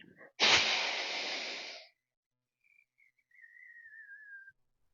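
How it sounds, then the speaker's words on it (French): A sophrology breathing exercise: one long, forceful breath rushes out for over a second, then after a pause a thin whistling exhale trails off softly, close and without speech. "Je vais remuer tout le système respiratoire en douceur pour libérer à l'expire."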